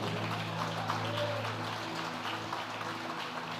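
A church congregation applauds in a steady, continuous wash of clapping, moderately loud and sustained throughout, with a low hum beneath.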